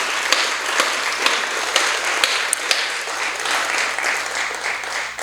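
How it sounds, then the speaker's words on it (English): An audience at a high school board candidates forum applauds the student forum members, a full, steady wash of clapping with a few sharper individual claps standing out, sustained through to the end. "give a round of applause to the Piper High School Student Candidate Forum members"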